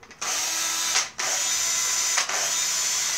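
A cordless drill converted to run on 12 volt DC from a transformer and rectifier whirs loudly and steadily up close in three continuous bursts with brief stops between them, with no talking.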